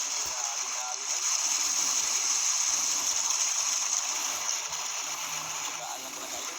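Strong waves and rushing water along a rocky shore during fishing, a steady broad wash of surf that stays loud and continuous throughout, with faint voices now and then.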